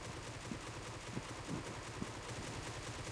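Groza rifle spray fire in a mobile shooter game, heard as a rapid, steady stream of muffled automatic shots under a constant background hiss, fairly faint and without talk.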